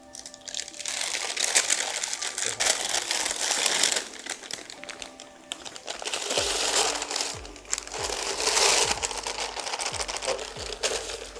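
Paper crinkling and crumpling as roasted vegetables for tomato soup are tipped off a paper funnel into a pot, close and fairly loud, in irregular rustling bursts with clatters of food dropping in.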